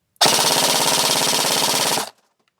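A Krytac MK3 airsoft rifle with a brushless motor fires a full-auto burst of about two seconds, a rapid, loud, steady mechanical buzz of shots that starts and stops abruptly, heard close with no talking.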